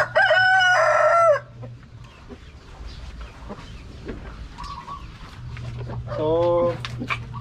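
Roosters weighing about three kilos crow loudly twice, once at the start and again near the end, with a quieter stretch of farmyard noise between.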